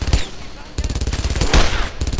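Rapid automatic gunfire in the World War II shooter Brothers in Arms: Earned in Blood, loud and close, with bursts of repeated shots crackling in quick succession.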